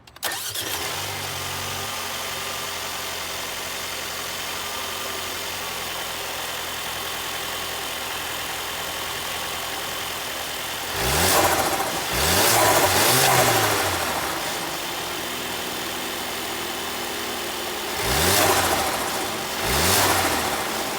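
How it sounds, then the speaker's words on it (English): A 2022 Mercedes-Benz A220 with a 2-liter turbo four-cylinder engine cranks via push-button start and catches, then revs a few times before settling into a steady idle, with another burst of revving later. "It's got the push to start, and we'll fire up the engine here"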